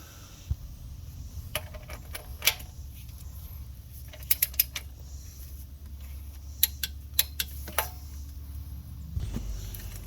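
Torque wrench clicking on bolts of a 5.7L Hemi engine from a 2016 Dodge Charger R/T being installed, a handful of sharp metallic clicks in uneven bursts over a steady low hum, close and fairly quiet.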